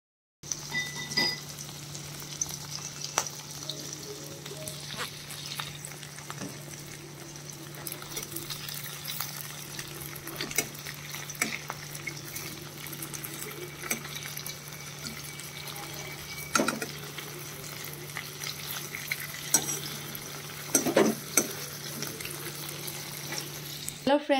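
Fish fries in a pan while being stirred, a low, steady sizzle broken by scattered clinks and scraping knocks, with a constant hum underneath.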